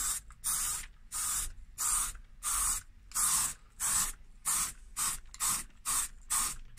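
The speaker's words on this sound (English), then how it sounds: "And let's start spraying." Short hissing bursts of spray paint coat a car steering wheel, about a dozen evenly spaced sprays with brief quiet gaps between them.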